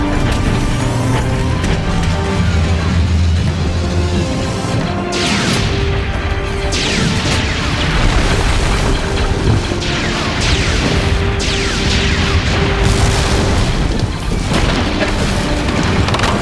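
Republic tanks in a Star Wars-style battle firing amid explosions, a dense, loud, continuous barrage of booms and crashes with repeated sharp blasts and rumbling impacts throughout.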